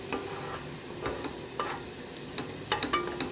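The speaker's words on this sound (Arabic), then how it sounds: "بعد ما طابت لينا البصله نتوما بدات كتحمر كاع" Onions frying and browning in a pan give a steady close sizzle, broken by a few scraping stirs and light clicks, with no talking.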